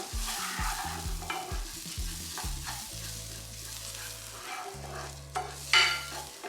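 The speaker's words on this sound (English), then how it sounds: "We're gonna cook up the spice and dry up the rice" Washed rice with a teaspoon of turmeric cooks and is stirred in a pan, giving a soft sizzle with scraping stir strokes and low background hum, no voices.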